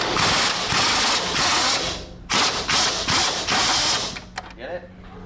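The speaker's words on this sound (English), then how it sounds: "the strut brace isn't coming off, so we're literally having to torque it off right now." Ratchet wrench working loose a stubborn car strut brace, a fast mechanical clicking that runs in repeated bursts with short pauses, loud and close, with no speech over it.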